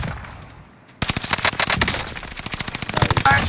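Rapid automatic gunshots in a video game shooter burst out after a near-silent second, a fast, loud, close rattle of evenly spaced shots that continues to the end.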